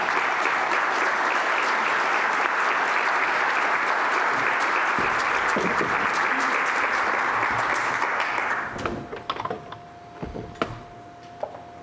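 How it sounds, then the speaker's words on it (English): A speakers' series audience applauds as a guest is welcomed to the stage, a full, even wash of clapping for about eight seconds that then cuts off, leaving a few scattered claps and soft room noise. "Let's give her a round of applause."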